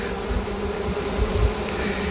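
Honeybees buzz in a dense, continuous drone as they fan their wings to call the swarm, steady and close with no speech.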